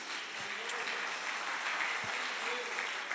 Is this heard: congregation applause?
yes